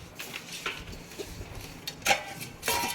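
A plate and a small measuring cup from a rice cooker parcel are handled, giving a few light ceramic and plastic clinks and taps, close and sparse against a quiet room.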